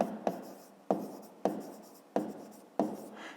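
Numbers are written by hand on paper in a maths lesson, six distinct scratchy pen strokes in an uneven rhythm, close and fairly quiet.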